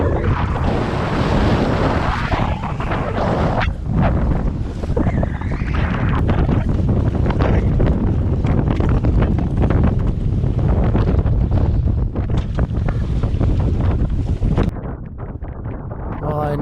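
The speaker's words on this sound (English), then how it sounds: "This wind is shifting." Strong, gusting wind roars across a microphone aboard a sailboat at sea, with a dense, continuous buffeting and water noise that drops off near the end; a voice talks underneath.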